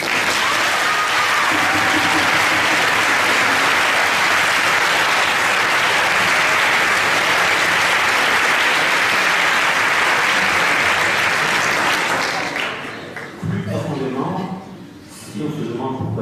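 A large audience at an eloquence contest breaks into loud, sustained applause, a dense roar of clapping that fades out near the end, when a voice begins speaking.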